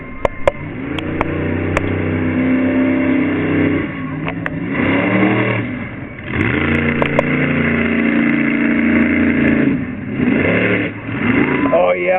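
A monster truck engine at the Topsham fair revs loudly in repeated surges, dropping briefly between bursts and climbing again, with people talking over it nearby.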